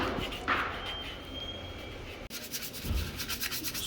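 Abrasive rubbing as Mk2 Jetta wheels are sanded down, steady scraping strokes with a short break midway, fairly quiet and close.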